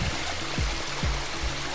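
Stream water runs steadily into a walled, pool-like basin at Arrikal waterfall, giving a continuous close rushing wash with a couple of brief low thumps.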